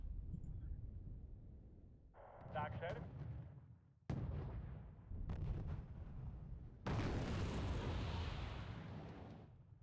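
Chu-MAT missile launchers fire in the Cold War real-time strategy game Wargame: Red Dragon, giving a series of booming launch bursts and rushing blasts of varying loudness, ending with a long roaring blast.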